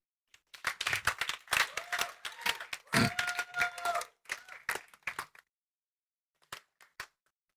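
An audience claps and applauds at a tech conference, dense rapid hand claps building and holding for several seconds, then thinning to a few scattered claps with a brief vocal note mid-way.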